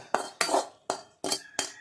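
Cauliflower stirred into a vegetable kurma in a pan, heard as five distinct scraping clatters of a spoon against the pan at an uneven rhythm, close and fairly loud with short pauses between strokes.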